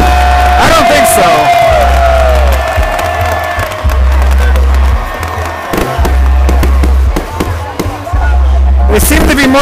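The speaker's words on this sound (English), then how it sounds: "I hear a lot of ooh, ah." A crowd at a Zanzibar Revolution Day celebration cheers and shouts with rising oohs and aahs as fireworks burst overhead, loud and continuous, while a steady low bass beat pulses underneath.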